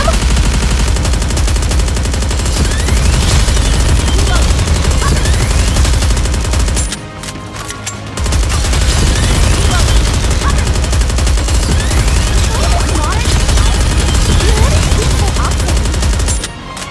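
Sustained automatic gunfire in Goddess of Victory: Nikke story mode, loud and relentless, a dense machine-gun barrage with one brief pause partway through before firing resumes at full intensity.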